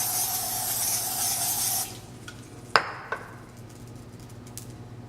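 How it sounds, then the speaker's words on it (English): A continuous hiss of cooking spray coated onto a grill before chicken kebabs go on, lasting a couple of seconds and then stopping, followed by a few light clicks and taps against quiet kitchen background. "I'm going to just spray my grill."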